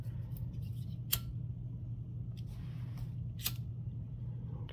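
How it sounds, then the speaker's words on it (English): Scissors snip at the edge of a zipper on a sewing project, two or three crisp, quiet cuts spaced apart over a low steady hum in a quiet room. "I could probably trim that a little bit closer"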